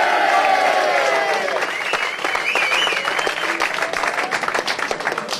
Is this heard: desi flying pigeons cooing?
no